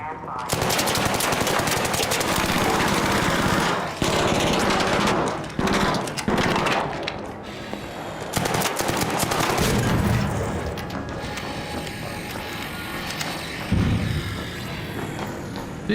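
A gun firing long bursts of rapid shots, loud and close, with brief pauses between the bursts and a voice faintly under the shooting near the end.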